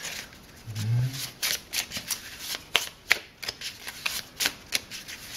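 Cards for the Lord of the Rings card game being shuffled by hand, a close series of crisp riffling bursts and soft flicks in an uneven rhythm, with a brief low voice sound near the start.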